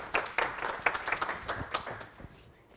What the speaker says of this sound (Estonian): Aitäh. Jah, teeme aplausi ka.